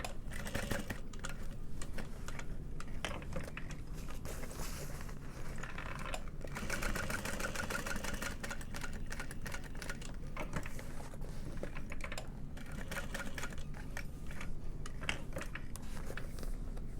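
A sewing machine stitching a fabric hobo bag runs in a long continuous whirring buzz, with fine rapid mechanical ticking throughout and no pauses.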